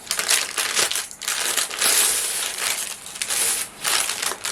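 Crisp crunching and crackling as a knife cuts through the crispy crust of a plum tart, close up and continuous with brief pauses.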